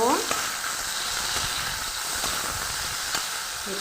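Dried fish fries in a pan with a steady, close sizzle and hiss, and faint stirring scrapes come through now and then.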